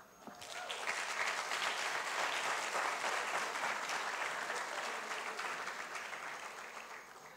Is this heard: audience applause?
yes